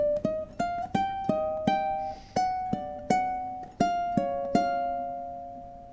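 A ukulele picks the third theme of In the Hall of the Mountain King on the top two strings, a string of crisp plucked notes in a steady rhythm, each ringing briefly, played alone and close.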